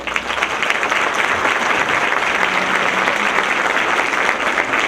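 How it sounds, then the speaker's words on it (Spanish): Dense, loud audience applause at a panel on a new personal data protection law, continuous clapping holding steady throughout without talk. "Un aplauso, por favor."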